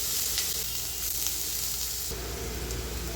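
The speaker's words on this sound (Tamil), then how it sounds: "வெங்காயம் நல்லா வதங்கிடுச்சு." Onions sauté in a pan for a South Indian garlic fenugreek-leaf gravy, giving a steady, close sizzle and crackle with a slight shift in texture near the end and no talking.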